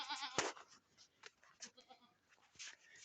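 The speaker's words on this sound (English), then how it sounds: "Crazy goats." Goats bleat in a quick cluster of wavering, nasal cries, close by, with rustling and movement around them.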